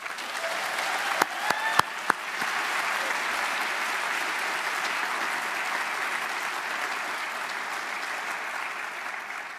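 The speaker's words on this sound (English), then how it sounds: "Let's have a round of applause for all the people" A large audience applauds at a Portland Community College in-service event, a few crisp claps opening before a full, even wash of clapping holds steady to the end.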